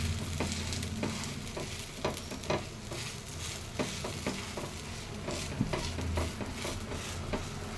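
Dosa of green gram batter cooking on a hot pan under a covering plate, a steady close sizzle with scattered soft clinks and scrapes, no talk.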